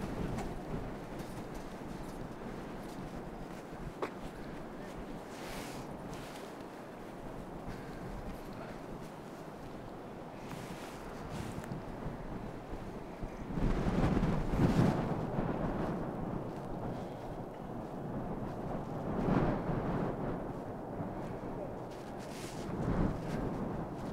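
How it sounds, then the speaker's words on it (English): Strong, gusting wind rushing across the microphone on a street in the Colorado mountains, a steady roar that surges louder in heavy buffets around the middle and near the end, with no talk. "And that wind is brutal."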